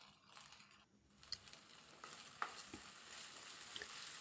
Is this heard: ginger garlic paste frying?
yes